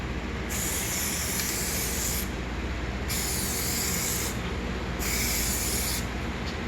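Three long bursts of aerosol UV-protective coating spray hiss in succession onto a scuffed, taped car headlight, each lasting about a second or more, separated by short pauses over a low steady background.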